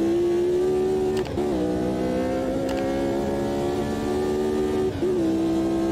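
A Porsche 911 RS-74 race car engine drones at a steady high pitch on the historic 1971 Südschleife circuit in Automobilista 2, dipping briefly at three gear shifts while holding a constant loud level.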